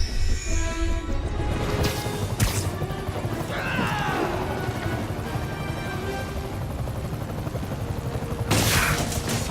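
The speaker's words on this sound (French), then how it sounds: "Je vais devoir vous demander d'arrêter cet hélicoptère" Helicopter in a Spider-Man video game, a rumbling rotor drone under game action with booms, crashes and sweeping effects, loud and continuous with bursts of impact noise at the start and end.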